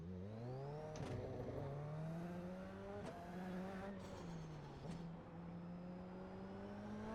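A Super Formula single-seater in iRacing revs through gears on the Nürburgring Nordschleife, its engine note climbing steadily with sharp upshifts at intervals, continuous and alone without talk.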